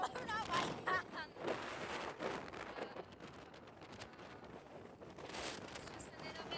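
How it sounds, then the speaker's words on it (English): Strong wind gusts over a cloud-covered Welsh hillside and buffets the microphone in loud, uneven roaring blasts, with a voice briefly heard among them. "It's just a little bit windy."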